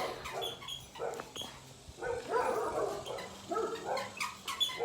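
Dogs at play give a mix of short yips, barks and whimpering whines, close by and fairly quiet, coming in bursts over low background noise.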